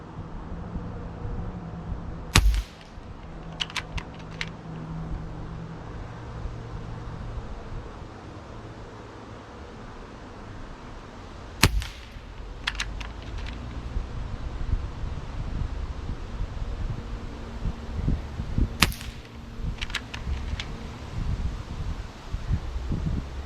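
A Gamo Arrow Classic .22 air rifle fires pellets outdoors, with three sharp, loud cracks spaced several seconds apart, each followed by a few faint clicks, over steady wind and rustling leaves.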